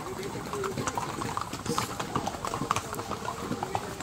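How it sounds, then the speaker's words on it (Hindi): Horse hooves clip-clop steadily on a path in the hill town of Matheran, with horses and donkeys around, close and continuous under people talking. "घोड़े और गधे सब दिख रहे हैं मुझे।"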